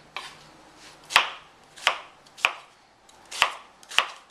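A kitchen knife chops vegetables on a cutting board for chicken stock, five crisp separate thwacks at an irregular, unhurried pace, close and alone with no talking.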